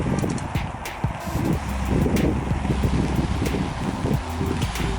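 Strong wind gusts over choppy lake water on an overcast autumn day, with steady buffeting roar and uneven lapping and slapping of waves close to the microphone.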